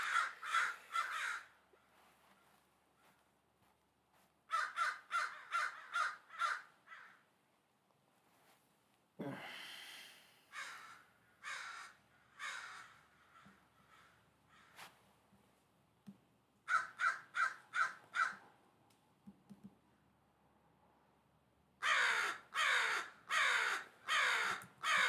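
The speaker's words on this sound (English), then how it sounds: "There's so many crows." Several crows caw loudly in repeated bursts of four to six harsh calls, with quieter calls and rustling between the bursts and no talk over them.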